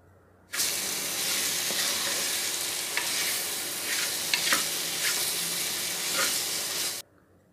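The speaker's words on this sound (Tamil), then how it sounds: "இந்த சிக்கனை வந்து நல்ல மசாலாவில் புரட்டி விடணும்" Steady sizzling of chicken frying in masala in a pan, with scraping stirring strokes throughout, close and fairly loud, no talking.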